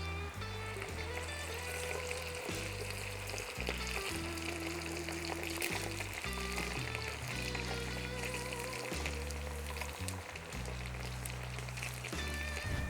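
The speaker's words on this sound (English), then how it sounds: "take my little bit of fillet steak and pop it in there" Fillet steak sizzles and fries in hot bone marrow fondue, a steady dense crackle running throughout with occasional stirring or clinking, close and clear with no talking.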